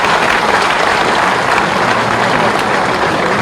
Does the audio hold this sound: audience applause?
yes